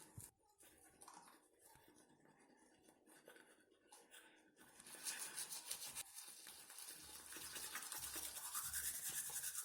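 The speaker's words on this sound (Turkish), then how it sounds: "Fırçalamaya başlıyorum." Toothbrush scrubbing teeth, a quiet close-up wet scratching that starts softly and grows into steady rhythmic brushing strokes.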